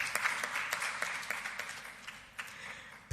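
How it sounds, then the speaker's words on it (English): Audience at a press conference gives a short, light round of clapping, scattered hand claps heard at a moderate distance for a few seconds. "we can give a round of applause"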